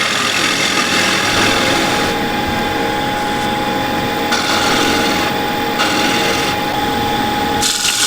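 A KS bowl gouge cuts apple wood spinning on a lathe, giving a steady, loud, continuous scraping rush with a constant motor hum underneath and brief changes in texture as the cut shifts.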